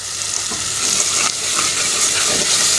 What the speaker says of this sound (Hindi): माशाल्लाह मसाला अब हमने अच्छी तरह भून लिया है।